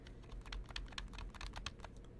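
Arrow keys on a computer keyboard are tapped repeatedly in quick, uneven succession, a dozen or so soft clicks close by and fairly quiet, over a low hum with no speech.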